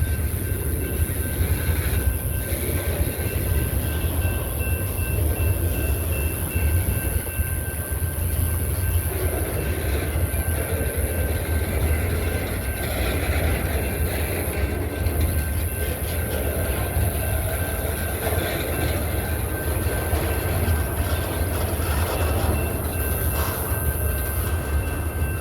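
A BNSF freight train rolls past close by, a continuous loud rumble of rail cars with rhythmic clickety-clack and occasional wheel squeal, steady throughout with no voices.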